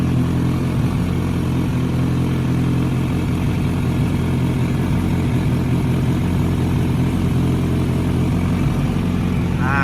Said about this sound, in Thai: เสียงเครื่องยนต์เดินนิ่งนะครับ